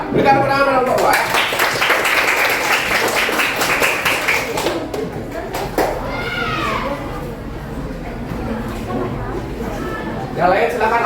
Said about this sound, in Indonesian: Berikan tepuk tangan kelompok 2 ya.